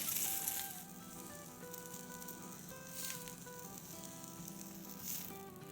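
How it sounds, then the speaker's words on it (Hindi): Chicken sausages sizzle steadily in a pan after grilling on a stove, a continuous close frying hiss with faint crackles and no talk. "ये भी देखें हमारे बड़े अच्छे से ग्रिल हो गए हैं।"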